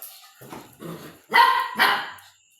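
A dog barks close by in a rough series of four barks, the last two louder and sharper.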